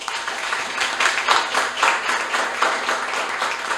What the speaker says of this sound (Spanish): para quien pido también un fuerte aplauso